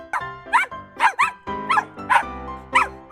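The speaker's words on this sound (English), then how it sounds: "Dog." A dog barks repeatedly, about eight sharp yappy barks in an uneven rhythm, close by with nothing else around.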